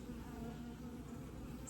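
Honey bees hum at a 24-frame Layens hive during a winterizing inspection, a faint, steady droning buzz that holds unbroken through the short moment.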